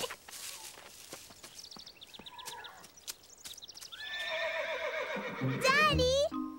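A cartoon horse whinnies loudly and long, its neigh rising and wavering, after scattered clip-clops and a few shuffling sounds.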